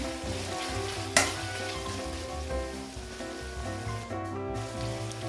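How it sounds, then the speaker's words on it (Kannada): Chicken liver and gundakayi fry in oil alone with no water, a soft steady sizzle with faint crackles and an occasional stir or clink of a utensil, close and fairly quiet. "ಬರೀ ಜಸ್ಟ್ ಆಯಿಲ್ ಜೊತೆನೇ ಇದನ್ನು ಫ್ರೈ ಮಾಡ್ಕೊತಾ ಇದ್ದೀನಿ"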